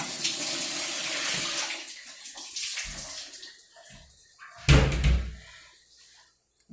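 Water gushes from a leaking faucet in a newly remodeled kitchen and pours down onto the floor, loud and steady at first and then easing into a thinner flow, with knocks and a bump toward the end.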